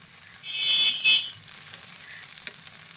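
Potato pieces fry in a pan with a steady, close sizzle, and a brief louder scrape partway through as they are turned over.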